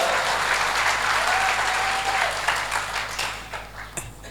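Applause from a church congregation at a Christmas service, sustained dense clapping filling the room, tapering off near the end with a faint tonal note sounding briefly through it.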